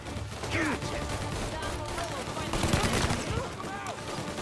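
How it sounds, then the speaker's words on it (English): Gunfire in the Mafia 1 Remake video game crackles as a string of rapid shots from the hip, sitting in the middle distance under someone talking. "Firing from the hip and hitting absolutely nothing"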